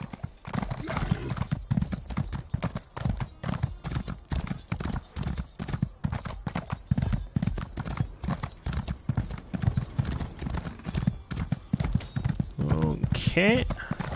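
A horse gallops in The Elder Scrolls Online, with steady, rapid hoofbeats running through the whole stretch and a brief whinny near the end, all under game ambience.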